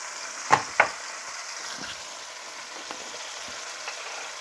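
A mahi mahi fillet fries in a pan just after being flipped, giving a steady soft sizzle with two sharp clacks of the spatula at the start and faint scrapes afterward.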